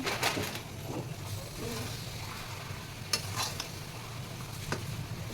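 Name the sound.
stirring mango pieces with sugar in a pot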